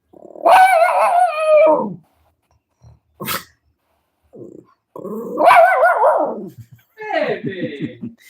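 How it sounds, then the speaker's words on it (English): A dog gives several loud, drawn-out howling barks, yowling vocal bursts with short pauses and a few quieter sounds between, all close to the listener in an indoor home. "This is a greeting from my dog. Because he needs attention."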